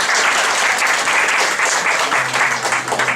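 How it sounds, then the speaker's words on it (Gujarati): An audience applauds the organisers of an inter-college poster making competition, a sustained, dense burst of many hands clapping together at close range, loud and even from start to finish. "જોરદાર તાળી મૂકી"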